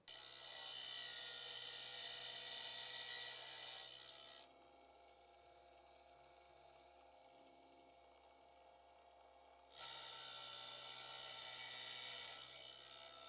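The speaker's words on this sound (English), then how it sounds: "let's just touch it up on the sharpener and see what happens" A saw blade is touched up on a sharpener: a bright, whining grinding runs for about four seconds, drops to a quiet low hum, then returns loudly for the last few seconds, with no talking.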